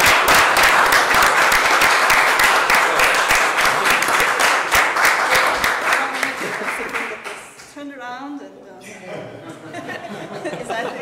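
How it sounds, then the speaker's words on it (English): Loud, sustained audience applause for a Best Contribution Award winner at a summit closing, with some chatter and chuckles, tapering off near the end as someone starts talking. "let's give her a big round of applause."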